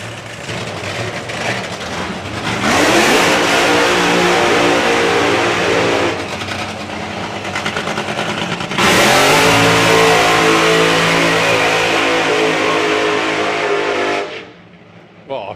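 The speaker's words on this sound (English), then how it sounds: "Two proper funny car burnouts there." Nostalgia funny cars doing burnouts at a drag strip, with two roaring bursts of engine and tyre noise, each sustained for several seconds, loud and close, the second ending abruptly before quieter crowd ambience.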